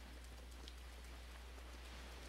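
Steady rain falling in Zelda: Breath of the Wild at Cape Cresia, a soft, even hiss with faint pattering that holds unchanged throughout, with no voices.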